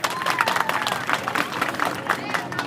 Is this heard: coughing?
no